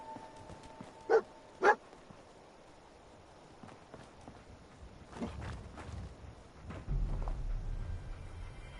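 A companion dog in Fallout 4 gives two sharp, close barks in quick succession, followed by quieter footsteps and shuffling in the game world.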